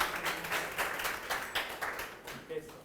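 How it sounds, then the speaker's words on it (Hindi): An audience at a parents and teachers meeting gives a short burst of applause for a presenter, with rapid, moderately loud clapping that fades over about three seconds. "कृपया पूरे दुमदुमा के लिए एक जोरदार तालियां"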